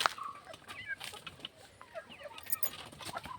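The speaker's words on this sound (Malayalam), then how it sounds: "ഇതാണ് നമ്മുടെ പുതിയ കോഴി." A hen clucks nearby in short, soft, irregular bursts against a quiet outdoor background.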